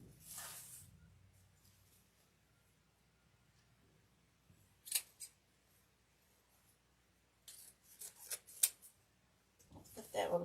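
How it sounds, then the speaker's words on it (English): Scissors snip through deco mesh ribbon for a snowman evergreen wreath. A few quiet, close cuts and rustles are scattered over a hushed room, with a cluster of snips near the end. "Let's cut it off long like the other one."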